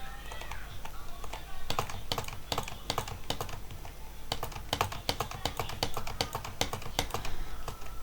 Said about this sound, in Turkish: klavye sesi geliyorsa kusura bakmayın